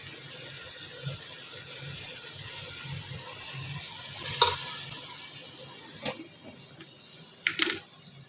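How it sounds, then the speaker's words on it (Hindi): Tomatoes tipped into a pot of softened potatoes and peas and stirred for a home iftar meal: a low, continuous stirring and simmering bed with a few sharp clinks and scrapes near the middle and end, no talk. "यहाँ पर आलू और मटर गल गए हुए हैं, और अब मैं इसके अंदर डाल दूँगी टमाटर"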